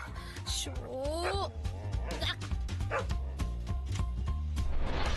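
A dog yelps and whimpers inside a car, with high whiny bursts over a steady low engine rumble and other movie sound.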